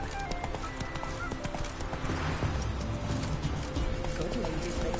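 Roach the horse's hooves clip-clop in the Witcher 3 video game, a steady run of hoofbeats with a whinny, mixed under game ambience and some talk.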